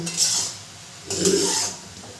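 Cabbage is stirred in a pan with a utensil, two distinct scraping strokes against the metal separated by a short pause, close and clear with no talking.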